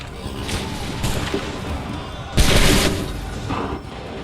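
A musket volley in Assassin's Creed III erupts as a loud burst of gunfire around the midpoint, with scattered shots before and after and a brief shouted voice nearby.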